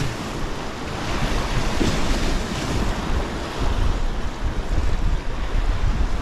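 Gusty wind buffets the microphone on a Brittany shoreline during bluefin tuna fishing from the shore, a loud, steady roar with surging gusts and surf mixed in, no voices.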